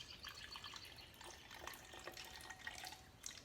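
Ordinary tap water, about 50 millilitres, is poured into a can, giving a soft, steady splashing trickle throughout with a few brighter drips, fairly faint and without talk.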